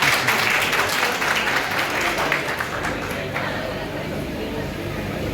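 A crowd at a youth conference in Jammu bursts into loud applause that slowly thins and fades, with murmured voices mixed into the clapping.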